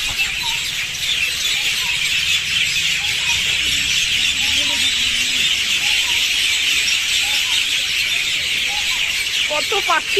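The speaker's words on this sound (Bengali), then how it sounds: "কত পাখি যে এর ভিতরে।" A dense chorus of many birds calling from inside a bakul tree, continuous high chattering fills the air at moderate distance, with a few voices and faint background noise underneath.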